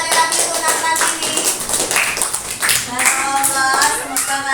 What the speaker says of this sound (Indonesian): tepuk tangan sekali lagi untuk anak ini